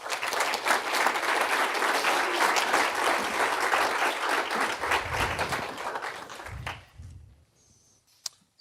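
An audience at a talk hosted by the Acton Institute in Grand Rapids breaks into sustained, dense applause welcoming John Blundell, then tapers off and fades to near silence with a couple of stray claps.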